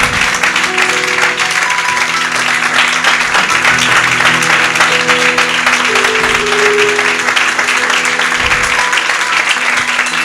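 A church congregation applauds steadily for about ten seconds, loud, continuous clapping filling the space, with a few voices and faint musical tones underneath.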